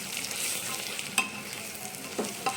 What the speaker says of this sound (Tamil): இப்போ நம்ம வந்து ரவை சேர்த்துடலாம். நல்லா மிக்ஸ் பண்ணிடலாம்.